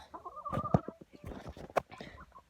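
Chickens cluck and scratch close by in a coop while being caught, with scattered short clucks and shuffling over a low background.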